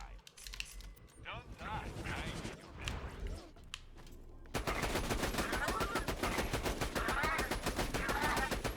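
Rapid automatic gunfire from the boss Hyperius's gun in the video game Borderlands 2, first sporadic and mixed with other combat noise, then a loud, sustained stream of rapid shots for the remaining seconds.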